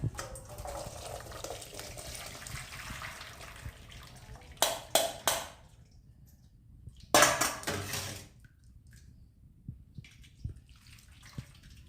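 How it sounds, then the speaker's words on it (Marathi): Two short bursts of water gush and splash as boiled papaya is drained through a sieve into a sink, between quieter stretches of faint kitchen clatter. "आता आपण हे या चाळणीमध्ये गाळून घेऊ"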